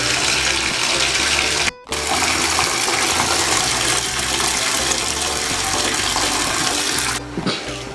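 Water runs hard from a tap into a bathtub, a loud continuous gush with a brief break near two seconds and another dip toward the end, no voices.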